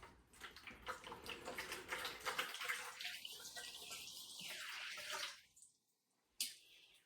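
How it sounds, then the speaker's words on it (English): Water is poured into a bowl on a kitchen scale while measuring 440 grams for sourdough focaccia dough. The steady, splashy pour runs for about five seconds before it tapers off, followed by a brief pause and one last short splash. "I'm going to start off with some water. I'm going to put 440 grams."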